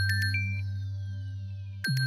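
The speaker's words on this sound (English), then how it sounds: "That is my ringtone, my alarm tone." A short synthesized electronic tune of bright, bell-like beeps over a sustained tone, with the beeping phrase starting again at the end.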